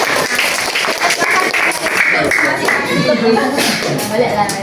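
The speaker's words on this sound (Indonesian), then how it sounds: "berikan aplaus dulu kepada teman-teman." An audience applauds the presenters of a group presentation, giving a steady wash of clapping from many hands that lasts the whole time, loud and close, with voices talking through it.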